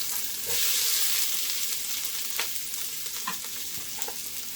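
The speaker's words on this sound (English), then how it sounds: "So now my pan is good and hot. In with green onions. In with the onions." Green onions hit a hot pan for French onion soup, a loud, close, continuous sizzle with a few soft stirring scrapes and no voices.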